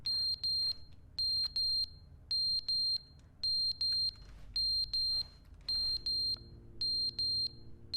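An alarm in The Stanley Parable video game beeps in steady doubled pairs, sharp high electronic tones that repeat evenly over a low hum, with no talking.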